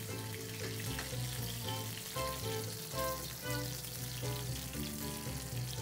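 Alaskan red salmon frying in oil in a pan, a steady close sizzle with crackling pops running continuously throughout, with no voices.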